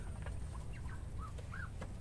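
Ducks raised at home give a few soft, short quacks, faint and somewhat distant, over a steady low background hum.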